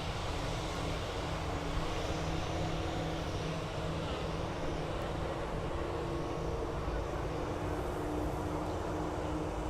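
British Airways Speedbird airliner taking off at Birmingham Airport, a steady broad jet roar with low engine rumble holding at a constant level throughout, no voices over it.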